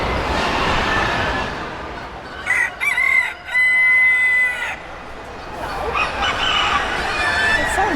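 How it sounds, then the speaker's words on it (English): Roosters crow and chickens cluck at a poultry exhibit of ducks, geese and chickens at a New South Wales show, with a clear crow mid-clip over a busy, noisy hall background and a second fainter crow near the end. "we wandered into the poultry exhibit, or the display of ducks and geese and chickens"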